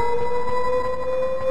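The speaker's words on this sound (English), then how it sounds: "Oh, cutscene. With the freaking air raid siren" An air raid siren wails during a Shenmue video game cutscene, a loud steady two-tone drone holding level and alone.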